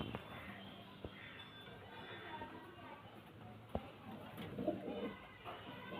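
Pigeons coo faintly and low in a loft under steady background noise, with a few sharp knocks and rustles. Someone talks over them.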